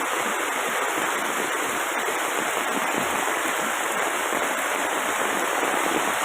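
Heavy monsoon rain in Kannur, with water pouring over flooded ground near homes by the airport, makes a dense, steady hiss that runs unbroken and loud throughout, with no voices.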